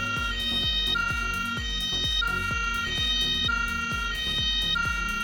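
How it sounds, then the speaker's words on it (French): A Playmobil toy ambulance from the 2015 children's hospital set plays its electronic siren, a rapidly repeating, pulsing two-tone wail that loops steadily, close and moderately loud, with no voices. "l'ambulance vienne avec son et lumière, un gyrophare bleu et une sirène adaptée"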